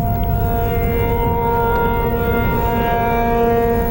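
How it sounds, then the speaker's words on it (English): Sirens sound outside a courtroom, a steady loud wail with sustained tones holding for several seconds and no voices over it. "I noticed that the sirens do."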